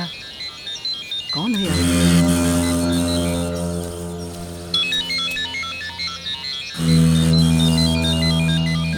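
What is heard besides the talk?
mobile phone ringing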